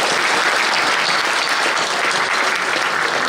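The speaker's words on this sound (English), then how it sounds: "Give everyone a round of applause" Loud, sustained applause from a crowd of about 600 at an evening community gathering with a member of parliament, close and dense with no break across the whole stretch.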